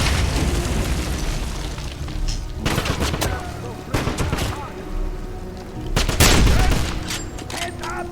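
Grenade blasts and gunfire in the shooter game Wolfenstein (2009), with dense rattling shots and several sharp booming bursts layered over a steady battle din, while soldiers shout orders underneath.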